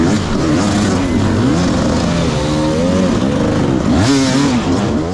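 A dirt bike engine revs hard and steadily during a hard enduro race among trees as the rear wheel spins, loud and close, with the pitch rising and falling through repeated throttle surges.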